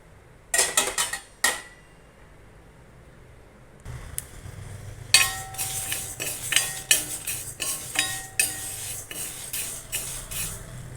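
Moong dal dry roasting in a pan, heard as scattered scraping and clinking strokes of a spatula against the metal, sparse at first and then more frequent and busier over a low, steady background, with no talk.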